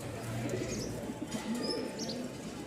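Moyna flock pigeons coo softly and faintly, with a few scattered chirps and some wing movement over a steady low background noise.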